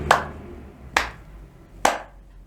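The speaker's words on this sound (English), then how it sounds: "So you can either clap 3 times" Hands clap three times in an even, unhurried rhythm to close a spell. Each sharp, close clap rings out alone with short quiet gaps between them.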